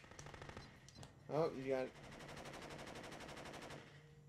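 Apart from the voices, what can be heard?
tank machine gun fire in video game Rise to Honor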